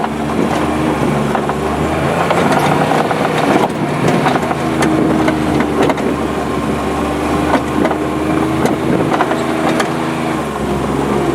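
A small red car nicknamed Little Red climbs a gradient under steady throttle, its engine droning loud and continuous with a low rumble and constant road noise throughout, no voices.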